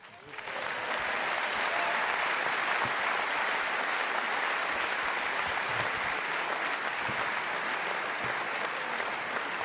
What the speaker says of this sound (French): Je crois que les applaudissements que vous entendez